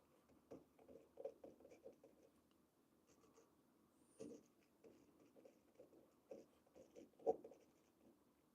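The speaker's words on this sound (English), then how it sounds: "I'm going to write down 5 things." A pen writing on paper, faint soft scratching in irregular bursts of strokes with small taps and pauses, close and quiet with no voices.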